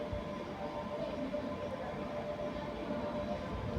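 A train pulls into Pontedera Casciana Terme railway station in Italy, producing a steady, fairly faint low rumble with a faint hum over it that lasts the whole stretch, with no voices over it.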